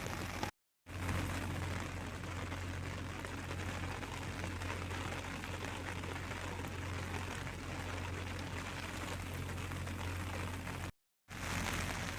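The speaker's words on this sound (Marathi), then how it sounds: "मी गेल्या अर्धा पाऊण तासापासून छत्रीखाली बसले, कारण पाऊस थांबायचं नाव घेत नाही आहे" Steady rain falling in a village, heard from someone sheltering under an umbrella, a constant hiss of drops on surfaces with a low hum beneath, broken by two brief silent gaps.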